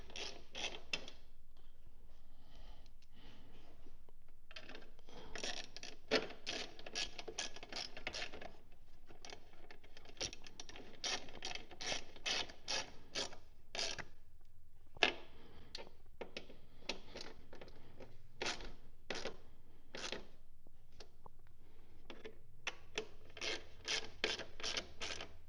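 Fasteners being hand-tightened on the body panels of a 2025 BMW R1300GS Adventure motorcycle, heard as close, rapid ratcheting clicks in bursts with short pauses between turns.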